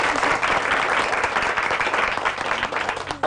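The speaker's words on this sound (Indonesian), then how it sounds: "tepuk tangan dulu pagi ini" A morning crowd of students claps together in steady, dense applause that runs throughout at an even, moderately loud level.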